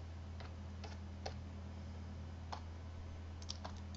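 Faint, sparse clicks of a computer mouse sound as a Photoshop design is built, arriving singly and in quick pairs over a steady low electrical hum.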